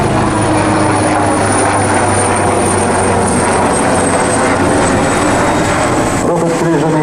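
An AgustaWestland AW139 helicopter flying a solo display gives a loud, steady rotor and turbine roar that holds throughout, broadband and continuous with a low rotor thump underneath.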